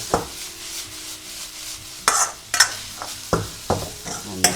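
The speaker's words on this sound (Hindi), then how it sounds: "चिकन को भून लेंगे ताकि इसका स्मोकी फ्लेवर आए सूप में" Boneless chicken and wings being stirred in a hot pan to roast them for chicken soup: a series of sharp scraping, clattering strokes against the metal over a soft steady sizzle, close and fairly loud.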